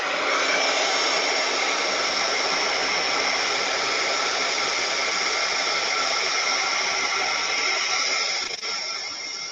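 A hair dryer blows steadily on watercolor paint on paper, a loud, even whir that runs unbroken for several seconds before dropping slightly near the end.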